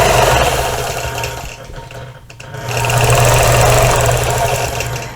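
A sewing machine stitches a double wedding ring quilt in a steady fast whir, briefly slowing and pausing midway before running on at full speed.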